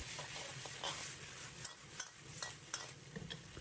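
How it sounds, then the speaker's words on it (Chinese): Cabbage, wood ear and tofu are stir-fried in a wok over high heat, producing a continuous quiet sizzle broken by repeated scraping clatters of the spatula tossing the food. "开大火在锅中煸炒1分钟左右"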